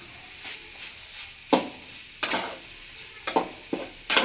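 Fried soybeans stirred into soybean chili in a pan, giving a steady sizzle broken by several sharp scraping strokes of a spatula against the pan, close and fairly loud.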